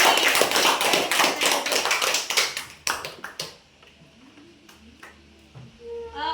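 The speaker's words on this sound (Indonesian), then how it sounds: "Tepuk tangan dulu untuk Ani." A sixth-grade class claps for a classmate after her presentation, a brisk burst of many quick hand claps that thins into a few scattered claps and fades into a quiet room.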